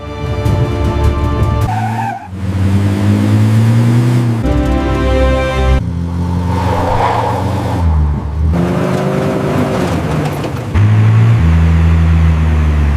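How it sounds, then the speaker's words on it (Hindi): A speeding military jeep on a road, its engine loud and close with tire squeal, rising and falling across the passage as it approaches; a brief dip early on breaks the continuous roar. "लगता है कोई तेज रफ्तार गाड़ी है"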